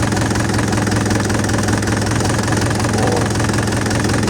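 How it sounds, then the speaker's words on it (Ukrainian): A DF-404 tractor engine runs steadily at a constant idle, a loud continuous low rumble with a knocking pulse and no change in pitch throughout. "Звук двигуна не міняється, двигун не реагує на поворот руля"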